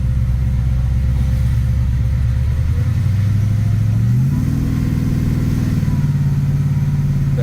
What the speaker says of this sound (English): You can hear that supercharger whine just a little bit.